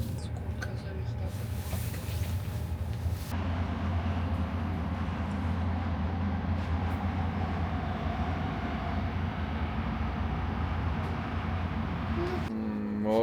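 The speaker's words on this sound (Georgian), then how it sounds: "მოკლედ ჩავჯექით მატარებელში" Steady low rumble and hum inside a moving train carriage on the way to Prague, with a continuous drone throughout and a brief rising whine near the end.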